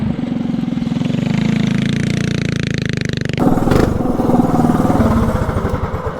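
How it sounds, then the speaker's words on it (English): A mini bike engine revs hard on a road test, a loud, close buzzing drone that holds steady and then jumps in pitch as the throttle opens further. "So the bike is a lot quicker and a lot faster."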